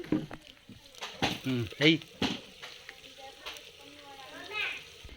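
Onions, chillies and tomatoes fry in oil in a clay pot during village-style mango pulusu cooking, with a moderate sizzle and occasional stirring scrapes while people talk over it.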